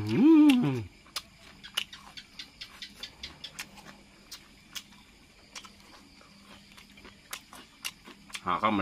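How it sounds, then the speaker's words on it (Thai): Bites of big heads of pickled garlic, eaten with shrimp soaked in fermented fish sauce, crunch in a string of sharp, close chewing clicks, with short speech before and after. "กระเทียมดองกัดเข้าไป"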